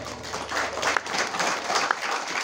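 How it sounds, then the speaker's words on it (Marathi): Audience at a bhajan singing performance breaks into steady applause, a dense rattle of many hands clapping close by that holds for the whole moment. "टाळ्या पाहिजे."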